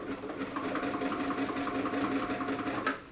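A sewing machine runs steadily through fabric seams of paper bag pants, going forward and back stitching over the same spot, a close, continuous mechanical whir with a regular needle pulse.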